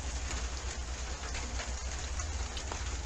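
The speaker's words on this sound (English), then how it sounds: "it's raining out there." Steady rain falls outside a house near the Withlacoochee River in Florida, a dense, even hiss with scattered drop patter that holds at the same loudness throughout, with no voices.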